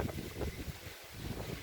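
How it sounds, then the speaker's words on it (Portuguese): Strong wind blows outdoors in the rain, roaring across the microphone in loud, close gusts with a steady rushing wash and no voices. "E a chuva bem embaixo, viu? Muito vento."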